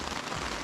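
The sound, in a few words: rain falling on a tent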